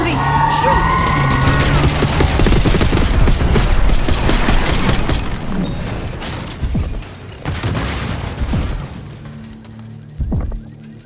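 Dense gunfire in the Call of Duty Black Ops 6 campaign, rapid bursts and heavy booms with mechanical clatter, loud and close, thinning toward the end into scattered shots, with voices shouting beneath the fire.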